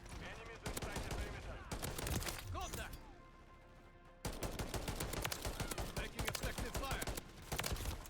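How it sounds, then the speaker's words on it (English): Rapid automatic gunfire in a Modern Warfare 3 deathmatch with a DM 56 setup, heard as dense, loud bursts of shots that drop away briefly midway and then resume just as intensely. "I just got shot by 5 members of the enemy team."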